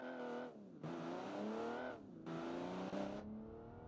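A 6-cylinder car engine in a racing video game revs hard twice, each long rising roar dropping back to a lower idle between the pulls, loud and close with no talking.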